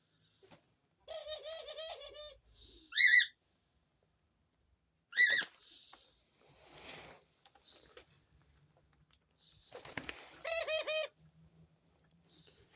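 Doves cooing in repeated soft bursts near a washable dog bed set out for them to rest on, with a few brief sharper calls and quiet rustling between phrases.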